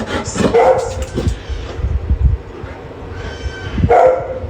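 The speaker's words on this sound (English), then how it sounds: "the most tamed, patient, and most trained dog I've ever seen" A trained dog barks and whimpers close by, with several loud barks near the start and again near the end, soft whines and yips between them.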